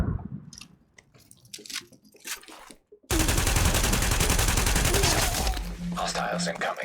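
Sustained loud automatic gunfire in the video game The Division breaks out after a quieter stretch of talk and keeps going densely to the end, with a game voice alert near the finish.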